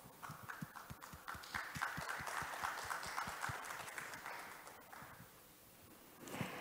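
An audience at a science and technology policy conference session claps to welcome the moderator, a dense, even patter of many hands held at a fairly faint, distant level for several seconds.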